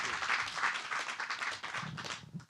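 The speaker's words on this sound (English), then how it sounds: "Please, a round of applause for Ifie Sekebo." A hall audience applauds steadily at a Broadway-style musical commemoration, the dense clapping loud and sustained throughout with a brief dip near the end.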